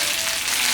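Salmon pieces sear in a hot pan with a steady, close sizzling hiss that holds at an even level throughout the brief moment, with no voices.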